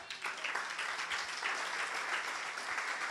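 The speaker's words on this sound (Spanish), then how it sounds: "Dale un aplauso al Señor." A church congregation applauds continuously, a dense, steady wash of many hands clapping together that fills the whole stretch without a break.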